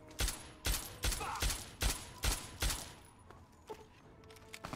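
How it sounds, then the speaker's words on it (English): Automatic turret fire from Fallout 3: a rapid, evenly spaced string of loud gunshot bursts for about three seconds, then quieter scattered combat noise. "Is that a turret? Yeah, that's a turret."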